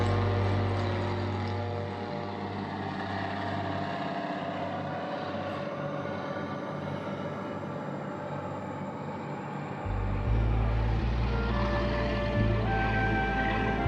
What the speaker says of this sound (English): a float plane heads for one of the offshore islands